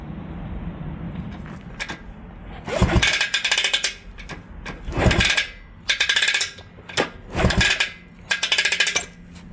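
A 1971 Bultaco Alpina 250 motorcycle engine is kicked over by hand without starting, giving several separate bursts of close mechanical clattering and clunking with quiet gaps between them.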